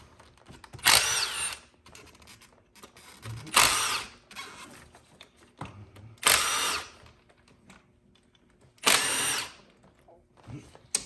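A power drill with an 8mm socket loosens valve cover bolts on a Chevrolet Silverado 5.3 V8, whirring in four short, loud bursts separated by quiet pauses.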